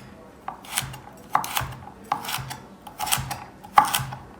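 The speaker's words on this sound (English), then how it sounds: "So depending on how big your celery sticks are, slice them and then chop them." Knife chopping celery, carrot and onion into small cubes for a meat Bolognese, with sharp irregular blade strikes on a board. The strikes land close by, about once every second, with softer scraping between them and no voices.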